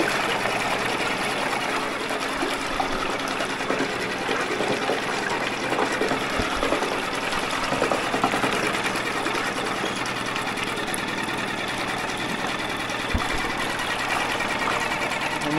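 A new Suzuki 6 hp four-stroke outboard motor runs steadily on a boat with choke in, giving a fast, even mechanical buzz mixed with water rushing and splashing, close and continuous throughout.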